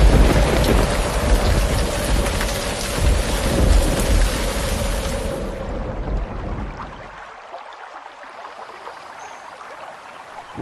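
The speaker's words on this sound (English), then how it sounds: "Looks like a storm's coming in." Steady heavy rain with rumbling thunder as a storm rolls in, loud and dense at first, then dropping off sharply and thinning to a quieter patter toward the end, with no voices.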